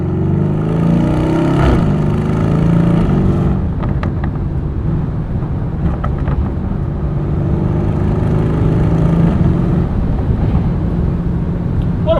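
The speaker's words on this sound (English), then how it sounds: "it downshifts so fast that the instant the gas hits and it goes to rev up and downshift, it like makes a nice little burble noise" Lamborghini Urus S in Corsa mode revving hard, with a quick rising engine note and a sharp break near four seconds as it downshifts, then a steady loud mid-pitched engine drone with brief burbling pops, heard from inside the cabin.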